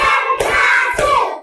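Schoolchildren in an Indonesian classroom clap their hands together in a patterned rhythm chant, loud and close, with dense bursts at the start and again near the end.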